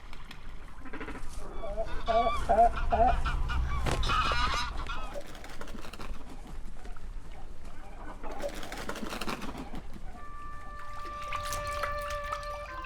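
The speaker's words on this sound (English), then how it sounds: "Thousands of grey lag goslings have been born, and all of those young geese need to feed." Greylag geese with their young goslings honk in a Dutch wetland, a run of repeated nasal calls near and far, bunched early and scattered later over a quiet outdoor background.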